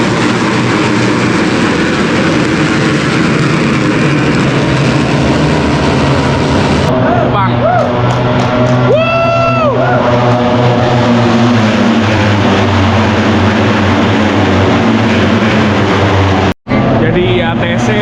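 Racing motorcycles on the first lap of an Asia Talent Cup race at Sepang circuit, Malaysia: a loud, continuous roar of engines from a trackside spot, with rising and falling whines as bikes sweep past and voices mixed into the din.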